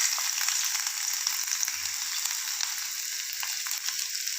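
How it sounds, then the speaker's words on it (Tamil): Sliced onions fry in hot oil for street-style samosa filling, an even, bright crackling sizzle held steady and close without a break. "எண்ணெயில் வெங்காயத்தை போட்டு"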